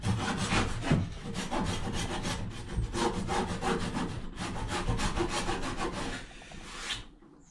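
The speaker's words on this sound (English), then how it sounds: "this is actually curved on both sides, and as what this allows you to do is to basically be able to tilt the saw like so." A Japanese saw cuts through a clamped scrap of wood in fast, even back-and-forth strokes, loud and close, running steadily until the cut stops near the end.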